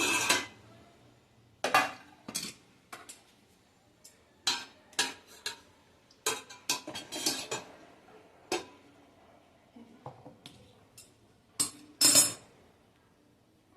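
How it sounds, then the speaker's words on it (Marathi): Steel tamarind container lifted out of a pressure cooker after the steam has settled, giving a series of sharp metallic clinks and taps spread irregularly across the stretch, close and fairly loud, with no talking. "आपण आता त्यातला ह्या चिंचेचा डबा तो काढून घेणार आहे"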